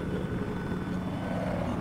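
Hostile helicopter in Battlefield 4 flying nearby, a steady low rotor and engine rumble that stays constant and fairly loud throughout with no break.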